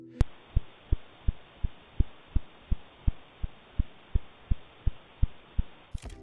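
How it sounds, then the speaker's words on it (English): Radio signal of the mode-changing pulsar PSR B1133+16: regular low thumping pulses, about three per second, over a steady band of static hiss; each pulse varies slightly in strength. "Scientists call it a mode-changing pulsar."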